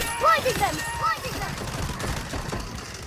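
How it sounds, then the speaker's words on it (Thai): Automatic fire from an AUG rifle in the mobile shooter Delta Force Mobile, rapid crackling bursts running steadily under someone speaking. "ยิงใครไม่ตายเลยเว้ย ยิงไม่โดน"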